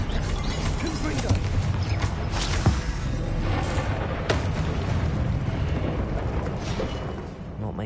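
A blasting spell erupts in a Harry Potter video game, a loud, dense explosive roar with sharp cracks and crashes. It is sustained and near, and a voice calls out over the din.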